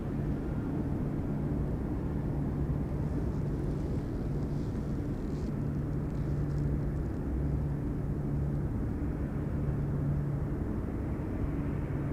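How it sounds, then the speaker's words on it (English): A cargo jet with JT8 engines at full power at Anchorage airport makes a steady, distant low roar that holds constant throughout, with no talking. "we're gonna have the good old JT8 engines at full power"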